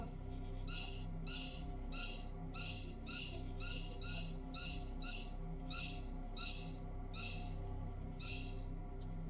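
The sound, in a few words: koel calling at night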